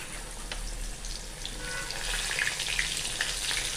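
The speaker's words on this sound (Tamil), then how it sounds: "அப்படியே பொறிச்சு எடுக்க போகிறோம்" Pieces of elephant foot yam cut like fish, deep frying in hot oil, give a steady, soft crackling sizzle with small bursts of spitting, close by and without talk.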